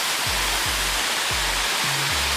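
Water tumbling from a waterfall into a pool in Mableton on a summer day makes a loud, continuous rushing roar, near and steady, with no speech.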